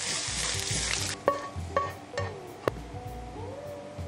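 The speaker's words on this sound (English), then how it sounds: "Now I just mix it all up." Quail eggs, an egg and egg whites are stirred together for a scramble in a hot pan, a soft sizzle under several distinct clacks and scrapes of a utensil, close and unhurried.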